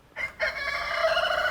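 A rooster crows loudly and close by, a short opening note followed by a long sustained cock-a-doodle-doo with no voices over it.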